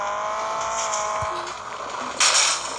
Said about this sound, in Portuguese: Olha que drift legal.